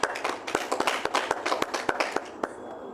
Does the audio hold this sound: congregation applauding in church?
yes